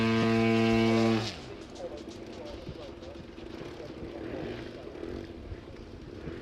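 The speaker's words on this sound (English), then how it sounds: "he's going to be flying some 3D aerobatics with much larger aerobatic models" A large radio-controlled aerobatic model airplane flying 3D aerobatics at a wing show: a loud, tonal engine drone for about a second, then a fainter, broad distant roar that carries on steadily.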